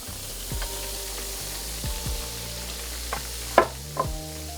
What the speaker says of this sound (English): We're basically cooking the flour, y'all. Cooking the flour. And I'm basically cooking the flour, making the roux.